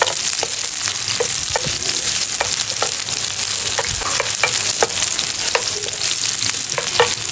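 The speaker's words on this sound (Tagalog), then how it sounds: "At habang ginigisa natin yung bawang sibuyas mga pare ko" Garlic and onion sauté in a hot pan, sizzling steadily while a utensil scrapes and clicks against the pan in an irregular rhythm, close and loud, with no voices.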